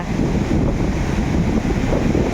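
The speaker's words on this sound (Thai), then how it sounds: "นี่ฮะ แรงสุดยอดเลยคลื่น ตูมมกันเลย" Strong, high waves crash and wash onto a beach, a loud continuous rumbling surf mixed with heavy wind buffeting against the microphone, with no voices.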